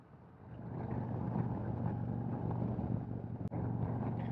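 Harley-Davidson CVO motorcycle cruising along an open road, a steady low engine rumble mixed with wind noise, swelling in the first second and then holding even, heard from the rider's position.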